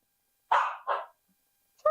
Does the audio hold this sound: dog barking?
yes